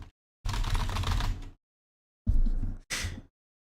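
Bursts of rapid typing from a Typing Racer game, three separate flurries of dense clatter broken by silent gaps, fairly close and loud, with no voices over them.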